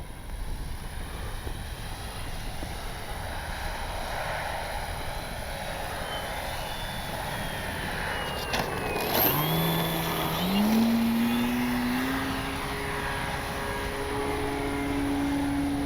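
An Avios Grand Tundra V2 RC airplane flies past with a steady propeller drone. The pitch swoops as it crosses overhead, then it holds a rising whine as it pulls away, over constant outdoor background noise.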